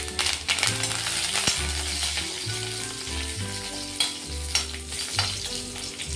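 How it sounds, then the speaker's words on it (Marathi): Curry leaves fry in hot oil in a pan, giving a close, busy crackling sizzle with bright pops and a few clinks of a utensil, with no speech. "चांगला कुरकुरीत होईपर्यंत आपण तळून घेऊ"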